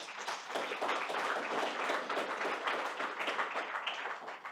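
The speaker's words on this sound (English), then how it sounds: "Maybe give them another round of applause." An audience at a panel discussion applauds to welcome the panelists, a continuous, fairly quiet wash of many hands clapping with no speech over it.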